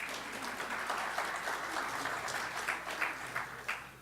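Audience applause at an economic summit, a steady wash of many hands clapping from a sizable crowd, with a few louder bursts rising through the four seconds.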